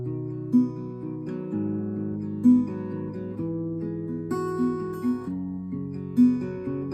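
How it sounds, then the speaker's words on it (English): Acoustic guitar fingerpicking the verse of Ed Sheeran's Camera, a flowing sequence of plucked notes and chord changes with soft accents, played solo and close. "So altogether, one time through verse 1 would sound like this."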